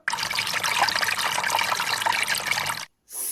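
Water pours steadily into a container for making giant Doritos-style chips, a close, continuous trickling rush lasting nearly three seconds before stopping abruptly, followed by a brief resumed splash.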